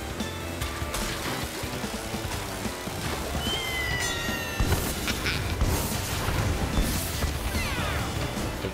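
A cat meowing in the racing game Crash Team Racing Nitro-Fueled, a few short cries sitting among busy engine hum, music and crash effects, fairly faint against the constant game noise.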